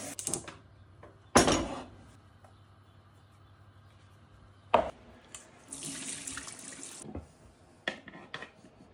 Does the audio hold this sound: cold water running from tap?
yes